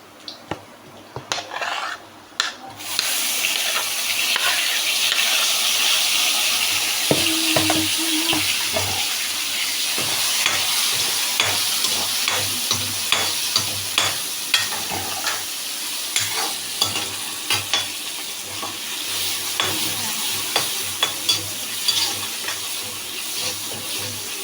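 Onions and curry leaves are being sautéed in a pan for a Sunday chicken curry, giving a steady close sizzle with repeated scraping and stirring clicks of a spatula. There is no talk.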